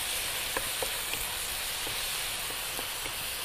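Food sizzles steadily in a hot pan while being stirred, with a constant frying hiss and a few soft scrapes of the spoon against the pan, close and with no voices.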